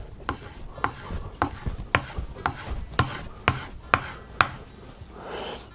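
A steel sole of a cheap Number Five fore plane being lapped flat, with about ten evenly spaced rasping strokes back and forth, close and fairly loud, with no one talking.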